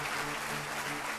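A church congregation keeps up sustained, thick applause, a steady wash of clapping with no gaps and a slight crowd murmur beneath.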